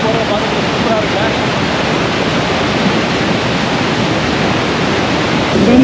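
Water flows at a village waterfall in South India as a steady, full broadband rush, close and loud, swelling slightly at the end, with no speech over it.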